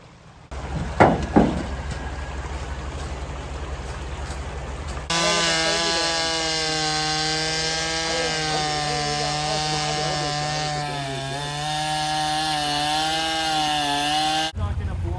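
A chainsaw cuts a fallen log blocking a down ramp, its engine first sputtering and revving, then settling into a steady, loud, droning whine for about ten seconds before suddenly stopping.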